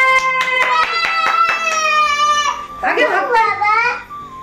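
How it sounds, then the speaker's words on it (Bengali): Several sharp claps ring out in a quick rhythm near a birthday cake, followed by a child's loud tonal crying or wailing voice, close and loud. "হাততালি দাও, হাততালি দাও, জোরে হাততালি, জোরে হাততালি দে"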